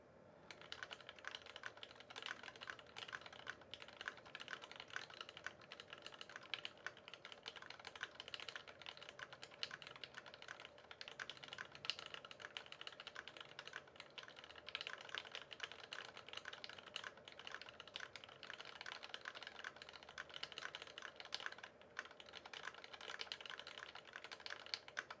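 Steady, fast typing on a Monstargear XO87 keyboard fitted with JWK Lavender switches, a dense continuous patter of keystrokes at close range with no speech.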